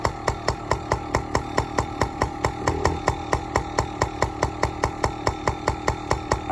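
A Yamaha PW50 dirt bike's small engine idles on fresh fuel, giving a steady, rapid popping putter with regular close pulses and a brief slight rise in revving midway.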